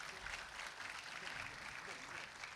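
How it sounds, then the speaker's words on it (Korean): Steady applause from an audience at a Korean university mechanical engineering lecture on automotive technology, greeting an invited speaker; broad, even clapping with a faint voice underneath. "여러분 큰 박수 부탁드립니다."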